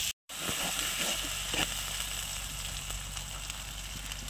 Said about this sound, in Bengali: তো মশলাটা কিন্তু ভালো করে কষিয়ে নিয়েছি